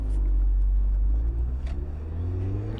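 A turbocharged convertible's engine drones loudly from inside the cabin with the roof up, a steady low rumble that rises slightly in pitch as it accelerates.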